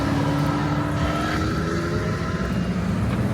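A Ferrari convoy with a 288 GTO and a silver Enzo driving past at a car show, with a loud, continuous engine drone and rumble close by, holding steady throughout.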